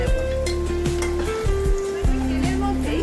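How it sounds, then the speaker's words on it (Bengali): Prawns lightly frying in a pan for a potol-chingri dish, a loud close sizzle with a few stirring knocks and a steady tonal hum running under it, with no clear talk. "চিংড়ি মাছগুলোকে একটু হালকা করে ভেজে"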